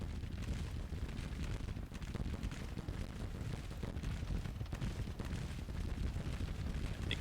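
Artillery fires in a Civil War strategy video game, a dense, continuous low rumble of booms that rolls on steadily throughout without any voices.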